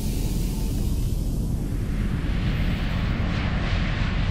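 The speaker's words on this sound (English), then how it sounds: "This is Whynaut 1 requesting permission for takeoff. Fire up the ignition." A cartoon aircraft engine firing up for takeoff, heard as a loud, steady roaring rush with no talk over it.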